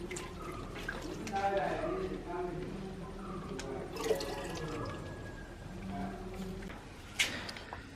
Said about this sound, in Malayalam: അപ്പോൾ ഒന്ന് വെള്ളം ചേർക്കാമെന്ന് വിചാരിച്ച്